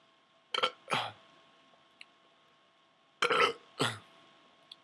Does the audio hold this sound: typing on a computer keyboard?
no